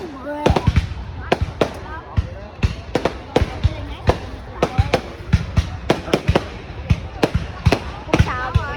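New Year's Eve fireworks in Vietnam burst in a rapid irregular series of sharp, loud cracks and bangs, with people talking and calling out between the explosions.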